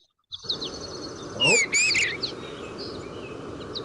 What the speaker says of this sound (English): Goldfinch. Hear the little chatter in there?